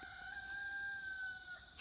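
A rooster held in a backyard animal pen crows once in a single sustained call, heard faint and from a distance.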